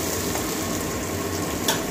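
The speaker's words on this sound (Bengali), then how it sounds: "পেঁয়াজটা ভাজা হয়ে গেছে আমার।" Onions frying in a pan with green chillies give a continuous close sizzle and crackle with light spattering and one brief scrape near the end, and no voices.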